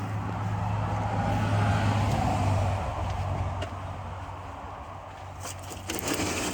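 A 1971 International 1510 truck with a 345 V8 runs steadily after its first start in 14 years, a loud, continuous low rumble close by that eases slightly partway through.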